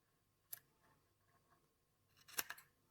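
Scissors snip through cotton wick while a Noctua RTA atomizer is being rewicked: one crisp cut, then a quieter pause, then a sharper double snip close up in a quiet room.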